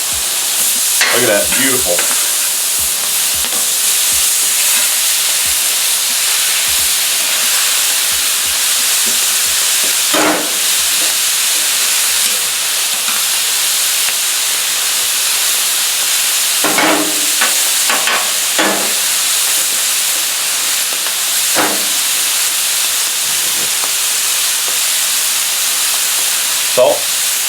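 Steak sizzles loudly and steadily on a Camp Chef FTG600 flat top griddle, with sharp spatula scrapes and clicks scattered throughout and a brief spoken comment over the frying.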